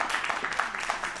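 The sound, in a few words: audience applause after a lecture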